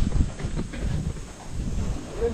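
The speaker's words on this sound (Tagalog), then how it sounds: "Lakas ng hangin." Strong wind gusts outdoors at a calamansi orchard in Villasis, Pangasinan, buffeting the microphone with loud low rumbling bursts that swell and fade over a couple of seconds.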